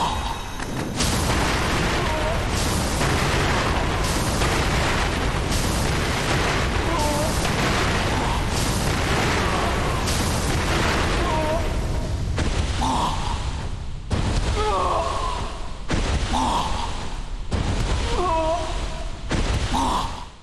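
Firecracker items are thrown repeatedly in Sekiro: Shadows Die Twice, giving a series of sharp bursts and pops over a dense, loud game soundscape.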